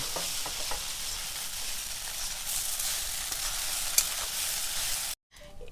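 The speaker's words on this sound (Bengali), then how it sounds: "এটা ম্যাগি মশলা দিয়ে এটাকে ভালো করে নাড়াচাড়া দেব।" Chira pulao, a flattened-rice pilaf seasoned with Maggi masala, is stirred in a hot pan, giving a continuous sizzle with soft scraping that runs steadily and then cuts off abruptly near the end.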